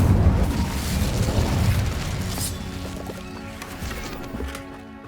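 An Incendio fire spell in Hogwarts Legacy erupts with a loud, rough blast of flame that roars at the start, then slowly fades into a lingering crackling rumble.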